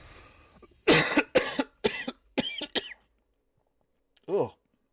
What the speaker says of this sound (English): I just got a cough attack right there